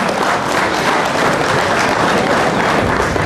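Steady, dense applause from a crowd at a Malaysian ceremonial evening event, loud and continuous throughout with no pauses.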